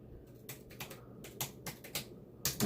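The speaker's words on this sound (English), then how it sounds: "You can probably hear me tapping away on the tablet keyboard." Fingers tap on a tablet keyboard in quick, irregular clusters of light clicks, close and quiet against a soft room hum, with no one talking.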